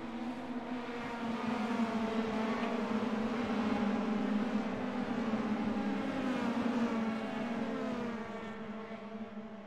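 Summer Lites championship race cars run at speed at the Brickyard, their engines blending into a continuous droning roar that swells as the pack draws nearer and then gradually fades, with no voices over it.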